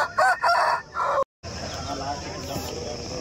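A native country rooster lets out a loud, close crow at the Mydukur country chicken market in Kadapa, then breaks off into a steady din of market noise and hubbub.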